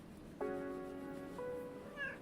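A house cat gives a close, clear chirping trill, one rising call followed by a shorter second one, alone in a quiet room.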